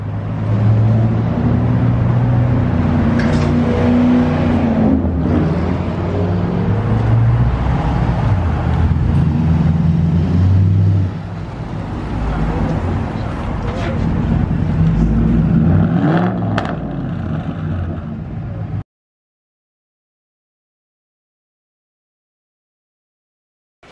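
Straight-piped 2009 Ford Crown Victoria engine revving loudly and close, deep rumbling bursts rising and falling for about nineteen seconds before cutting to silence, with no talking.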